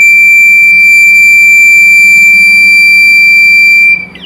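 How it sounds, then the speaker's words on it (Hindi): A homemade heat sensor project sounding its alarm when a matchstick flame is held near the sensor: one loud, steady, high-pitched electronic beep that holds unbroken, then cuts off near the end. "यह वो प्रोजेक्ट है जो टेम्परेचर को, ऊष्मा को बीप में कन्वर्ट कर रहा है"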